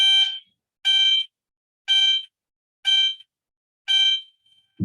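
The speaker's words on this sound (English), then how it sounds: "apologies for the bell" Electronic school bell sounding five evenly spaced bright rings about a second apart, each short and clear, in a school during the day.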